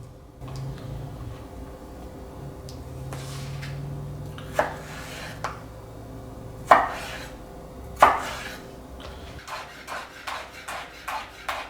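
A knife chops cucumber on a cutting board, with scattered knocks and scrapes, then a quicker run of sharp, close, evenly spaced chops at the end, with no talking.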